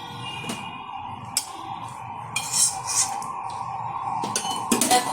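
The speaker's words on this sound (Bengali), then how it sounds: "লঙ্কাগুলো ভালোভাবে ভাজা হয়ে গেছে, তুলে নিচ্ছি" Fried dried red chillies are lifted from the pan into a bowl, giving a few sharp metallic clinks and scrapes of utensil against cookware over a quiet kitchen background.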